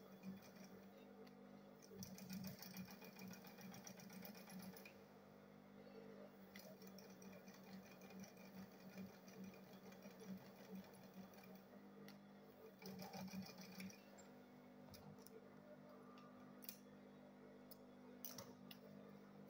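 A sewing machine stitches a handbag in bursts of rapid mechanical whirring, starting and stopping several times, with quiet ticks and handling noises between runs, heard close and fairly faint.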